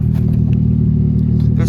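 A barn-find Ford Mustang, driven for the first time in two years with a weird clutch and a smoking exhaust, runs with a steady low engine rumble and faint clatter, close and loud.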